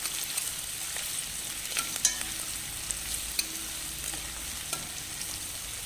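Onions sizzle steadily in hot oil for a Kerala-style thirutha fish curry, a continuous bright frying hiss with a few soft clicks of stirring, close and fairly even, no voices.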